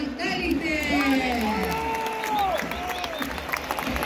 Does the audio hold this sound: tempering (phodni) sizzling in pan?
no